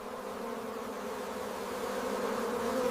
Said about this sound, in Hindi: मधुमक्खियां फूलों से अमृत लाती हैं और उसे छत्ते में स्टोर करती हैं।